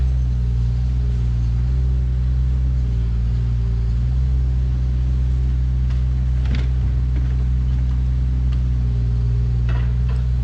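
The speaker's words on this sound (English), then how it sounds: "So here we are loading it up with the skid steer." A skid steer loader working in the woods, loading logs onto a wagon: a steady, loud low engine rumble runs throughout, with a few brief clunks and knocks toward the end.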